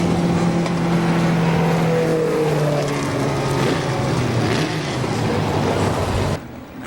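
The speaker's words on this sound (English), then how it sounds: "Modifieds pulling up for their feature" Modified race cars roll up at KilKare Speedway, several engines droning and revving loudly together in a dense, close roar with shifting pitch that cuts off abruptly near the end.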